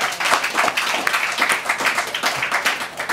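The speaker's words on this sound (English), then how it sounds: "Please, let's give them another round of applause, please." A crowd applauding steadily, dense overlapping claps filling the space for the whole stretch, fairly loud and even, with no voices standing out.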